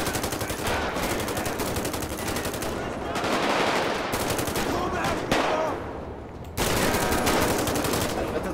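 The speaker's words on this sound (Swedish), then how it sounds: "Det skjuts redan." Sustained automatic gunfire blasts in a GTA zombie game, rapid bursts hammering almost without pause, loud and dense, with one short break before the shooting resumes.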